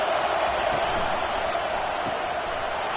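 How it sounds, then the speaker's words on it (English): Dense, steady roar of a football stadium crowd cheering at a college game, Michigan against CU, filling the whole stretch with sustained noise and no clear breaks. "This crowd bringing the energy and noise early."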